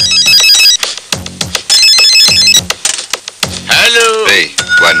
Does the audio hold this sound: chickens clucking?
no